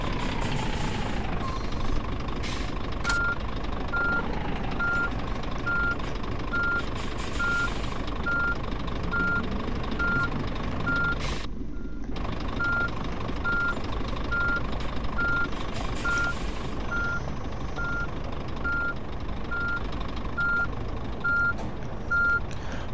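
A reversing truck in the On the Road driving simulator sounds a steady, evenly timed backup beep that repeats for over twenty seconds above a constant diesel engine drone, with a short break partway through.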